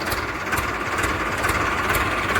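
A Mahindra Arjun 605 tractor engine idles close by with a steady, rhythmic chugging throb that stays even throughout the short stretch, with no voices.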